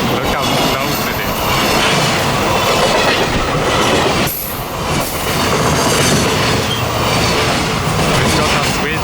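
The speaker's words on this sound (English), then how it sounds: "Oh, it's a freight train." A freight train passes very close beside a seaside track in Onomichi, Japan, a loud continuous rumble of wheels and rolling cars that fills the whole stretch, with a brief dip midway before the roar resumes.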